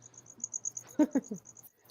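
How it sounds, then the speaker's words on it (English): Crickets chirp steadily in the background of an online conversation, a rapid regular high trill that runs through the clip while a few soft thumps and murmurs sit lower. "Who's got the crickets going on there?"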